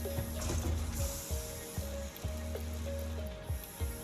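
A Satisfactory factory machine steadily turning out screws, giving a quiet, repetitive mechanical clatter of ratcheting clicks and whirring cycles at an even, steady pace.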